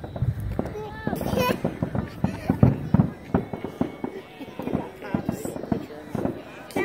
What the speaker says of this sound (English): Fireworks from Ottawa Lake, Michigan.